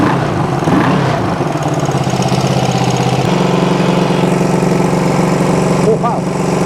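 Small engine of unknown make idling and running steadily with its tachometer unhooked and the timing set well off, a close, continuous droning hum with a short talking voice near the end.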